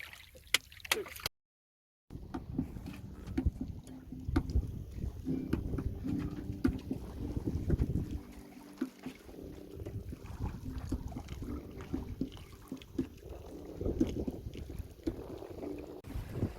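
A sailing boat underway in strong wind, with steady rushing wind and water noise, hull creaks and flapping rigging building throughout, briefly cut to silence near the start.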